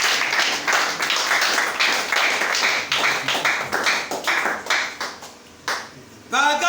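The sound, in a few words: congregation applauding and cheering during a sermon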